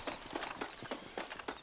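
Horse hooves clip-clop in the Red Dead Redemption video game, with a quick run of sharp, evenly spaced hoofbeats close by and fairly faint, with no talk over them.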